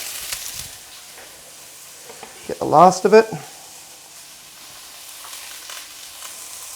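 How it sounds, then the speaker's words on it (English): A pan of chicken and sweet potato curry sizzles steadily with a soft, constant frying hiss, while a brief burst of stirring and scraping rises midway and a voice speaks briefly over it. "I don't know if you can hear the sizzle, but we have a lovely sizzle going"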